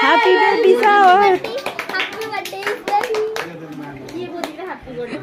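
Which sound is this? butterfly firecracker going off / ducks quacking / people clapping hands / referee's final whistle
people clapping hands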